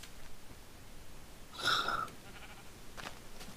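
In the Minecraft video game a single sheep gives one short, nasal bleat partway through, moderately loud over a faint ambient hiss.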